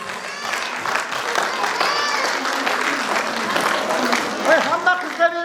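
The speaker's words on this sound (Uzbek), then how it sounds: "Chiroyli olqishlab qo'yamiz." An audience at a school concert of traditional singing and choreography students applauds steadily, a moderately loud spread of clapping with voices talking and calling out over it and a few sharp whistles near the end.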